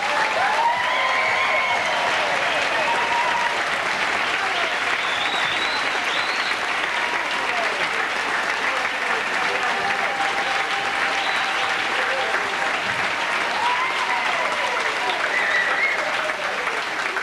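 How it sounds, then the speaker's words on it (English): Sustained audience applause fills an Ig Nobel Prize award ceremony hall, steady and dense throughout with a few faint voices mixed into the clapping crowd. "please let us have an appreciative round of applause for the 1995"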